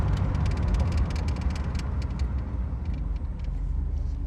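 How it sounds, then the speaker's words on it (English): A 1969 Ford Mustang decelerates hard from speed, road and engine rumble dominating with low tire and drivetrain noise, steady and loud from inside the cabin, no talk. "Again, here's high-speed braking."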